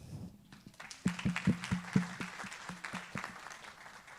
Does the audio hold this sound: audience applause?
yes